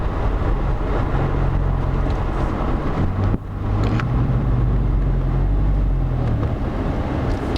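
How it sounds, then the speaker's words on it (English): A 2015 Subaru Legacy with its muffler deleted drones loudly and steadily at close range. A low exhaust rumble runs throughout, with a brief dip and a pitch change partway through as the car downshifts. "See, I was downshifting just now."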